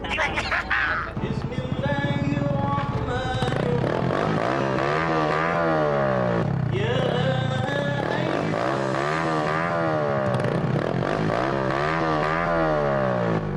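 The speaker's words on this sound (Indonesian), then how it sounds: "Bolon, maaf ya kalau menggas motornya jangan terlalu keras" A motorcycle engine revved hard over and over, its pitch climbing and falling in loud, close surges that run almost without a break, with faint voices in the background.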